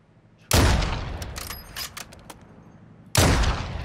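Two loud, sharp sniper rifle shots in the Warzone video game ring out about two and a half seconds apart, each with a lingering tail and faint clicks of handling in between.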